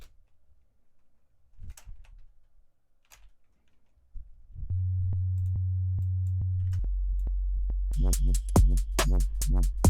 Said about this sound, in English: you can always just add a sine wave under with it.